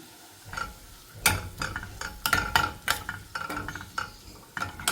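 Green chillies, ginger and garlic stirred in a hot pan, with a steady close sizzle of frying broken by repeated scraping and clinking strokes of a spoon against the metal.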